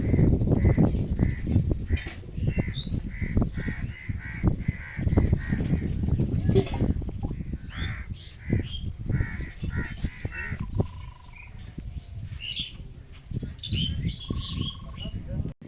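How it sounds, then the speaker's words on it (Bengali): Many crows caw repeatedly on a river island by the Ganges, the harsh calls overlapping close and loud over a busy outdoor background, with people speaking intermittently. "বলছি এখানে এত কাক কেন?"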